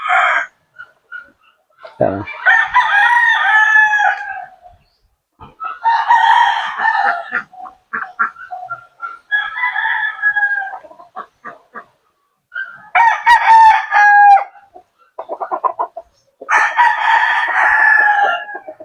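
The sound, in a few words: roosters crowing in a backyard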